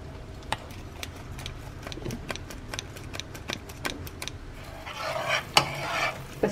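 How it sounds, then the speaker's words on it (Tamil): Ground cashew powder sifted through a metal sieve for kaju katli, a steady run of sharp tapping and scraping ticks, growing busier and louder toward the end, with no talk. "இதை இப்போ நம்ம சலிக்க போகிறோம்."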